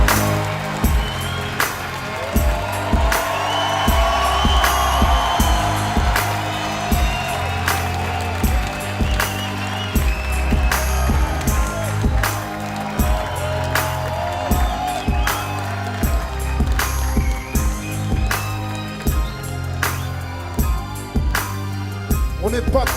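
Concert crowd cheering and applauding for a French rap performance, a loud, dense roar with whoops that runs steadily throughout under booming music.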